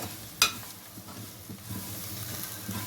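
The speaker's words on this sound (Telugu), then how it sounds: "కొత్తిమీర వేసుకొని ఒకసారి కలుపుకుందాం." Bean curry with chopped coriander being stirred in a pan, opening with a sharp metallic clink of the spoon, then a low steady sizzle with soft scraping strokes, close and fairly quiet, no talking.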